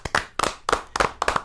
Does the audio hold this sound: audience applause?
yes